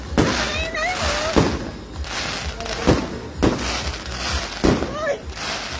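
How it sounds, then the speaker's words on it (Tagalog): New Year fireworks burst repeatedly, with sharp cracks and booms every second or so over a constant crackling din, while people nearby talk and exclaim, including an excited adult voice. "Ito yung fireworks, oh."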